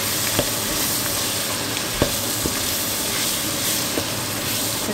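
Zucchini dusted with flour sizzles briefly in a hot pan as a soup base, a steady close frying hiss broken by a few faint taps and stirs, with no talking.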